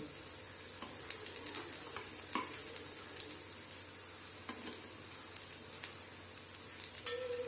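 Sabudana vada shallow-frying in oil in an appe pan, a soft, steady sizzle with occasional small pops and crackles, fairly quiet and continuous with no talking.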